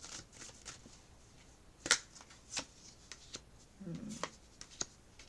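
Tarot cards handled at a quiet reading: faint, scattered snaps and riffling flicks of cards, a few sharper slaps standing out against a hushed background.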